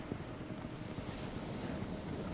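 Waves wash up on a sandy beach under steady wind, a soft continuous rumble of surf with no distinct breaks, heard at a distance and fairly quiet.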